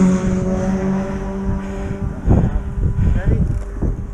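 Motorbike engine passing close by on a road, a broad rumbling roar that swells around the midpoint under steady engine hum, with people talking over it.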